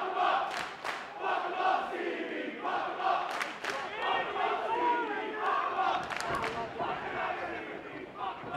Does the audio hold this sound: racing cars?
no